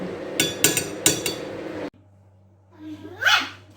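A small dog gives a few sharp, close barks in a home, mixed with clattering knocks, followed by a brief quiet pause and one more yelp-like sound.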